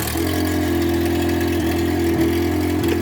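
A K24-swapped Honda Civic EK idles close by, its engine holding a loud, steady low hum with a constant tone and small periodic pulses throughout.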